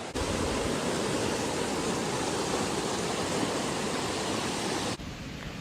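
Cold river on the Pacific Crest Trail rushing steadily and loudly close by, a dense unbroken roar of flowing water that drops away abruptly near the end.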